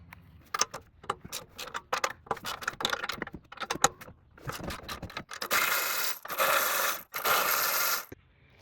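Ratchet wrench clicking and metallic clatter while undoing the catalytic converter pipe nuts on an Acura TLX, front bank 2: quick close-up bursts of clicks, then a few sustained grinding ratchet runs.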